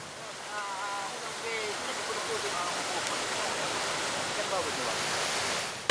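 A swift, swollen river after flooding and landslides in Sibolga and Tapanuli rushes in a steady broadband roar, while a voice speaks over the flow and a faint whistle-like tone rises briefly.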